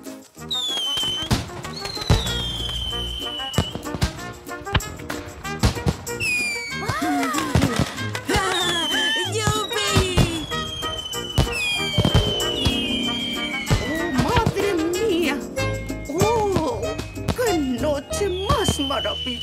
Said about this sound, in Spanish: Llega justo a tiempo para los fuegos artificiales.